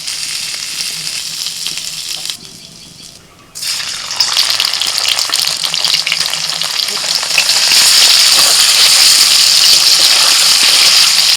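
Paneer cubes frying in hot oil in a pan make a steady, loud sizzle with a brief quieter dip partway through, then a fuller, busier crackle that continues to the end.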